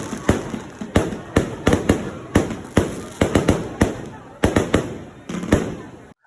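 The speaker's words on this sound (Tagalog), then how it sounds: "At nagpaputok na din pala ang aming barangay ng fireworks dyan." A rapid series of sharp fireworks bangs and crackles set off by a barangay after Mass, around a dozen bursts in quick irregular succession, loud and fairly close.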